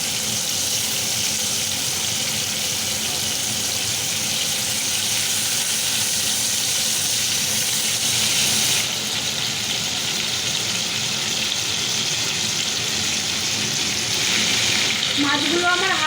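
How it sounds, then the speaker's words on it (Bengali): Giant freshwater prawns fry in hot mustard oil and are flipped to the other side, giving a steady, close, broadband sizzle throughout with a brief stirring clatter near the end. "এবার অন্য দিকটা উল্টে ভেজে নেব।"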